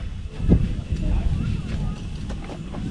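Wind blows at a night campsite with steady low rumbling gusts buffeting the microphone, continuous and fairly loud throughout.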